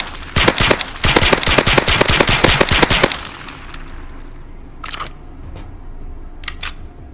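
Rapid, sharp .22 gunshots in the VR shooter H3VR crack out in a quick string for about three seconds, then a few isolated shots follow after a pause, loud and close.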